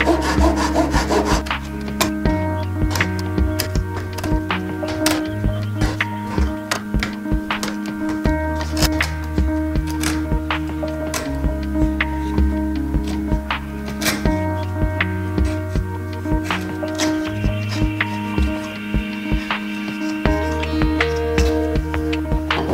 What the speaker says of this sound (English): again I'll flip it to get the second saw cut so I make sure that that dado is in the center